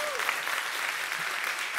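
A lightning-talks audience claps as a vote for a favorite talk, a full, even burst of many hands applauding, moderately loud and sustained, with a brief voice at the very start.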